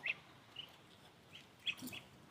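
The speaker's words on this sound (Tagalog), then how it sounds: "Yan yung dalawang sisiw guys ng pato guys." Faint, high peeps from ducklings, a few scattered short calls against a quiet background.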